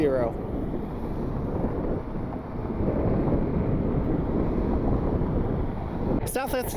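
Gusty wind, gusting to 20, roars across the microphone in a loud, continuous rumble that swells and eases at Cleveland Hopkins International Airport, with a brief burst of other noise at the end.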